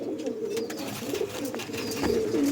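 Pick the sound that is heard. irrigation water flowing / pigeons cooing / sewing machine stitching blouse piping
pigeons cooing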